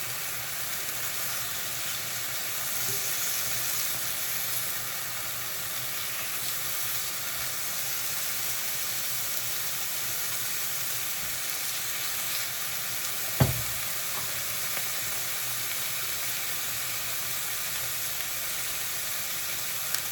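Beef sizzles steadily in a hot skillet, a continuous close hiss of frying with one sharp knock partway through.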